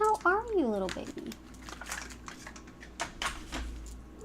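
A pet cat named Gertie lets out a single rising-and-falling meow right at the start, close and clear, followed by soft rustling and scattered clicks.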